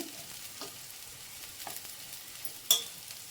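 Bitter gourd pieces, Andhra style, fry in a pan with a faint, low crackle and a few soft stirring touches, then one sharp metallic clink near the end.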